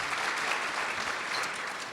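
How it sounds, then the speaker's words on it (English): A room of gala guests applauds a student panelist, a dense continuous burst of clapping at steady loudness with no talking over it. "Please give her a round of applause."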